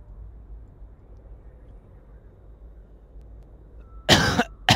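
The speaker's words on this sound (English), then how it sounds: "So occasionally I do hack and cough into the microphone." A person who is under the weather gives two loud, harsh coughs right into a microphone near the end, after several seconds of quiet low hum.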